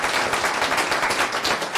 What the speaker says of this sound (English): thank you very much for a big round of applause for